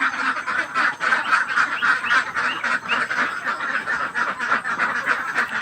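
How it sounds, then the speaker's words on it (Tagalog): Ducks quacking steadily at feeding time in a small pen, a dense chorus of close, overlapping calls that continues without pause. "Ayan po yung ating mga itik."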